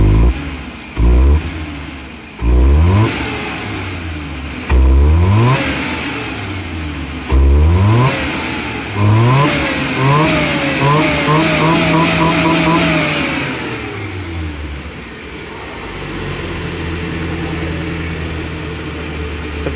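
A car engine, still cold and freshly cleaned at the throttle body, is revved several times from idle in short loud bursts, then held in a longer climbing rev that falls back to a steady idle, with someone talking over it.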